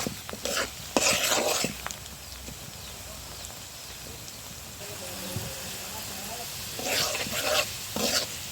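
Onions fry in a pan, a soft sizzle running underneath while bursts of spatula scraping and stirring come near the start and again near the end.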